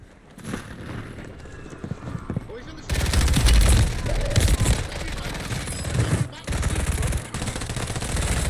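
Machine gun fire in Call of Duty Modern Warfare 3 multiplayer, dense rapid bursts that swell loud from about three seconds on with brief pauses, mixed with game noise.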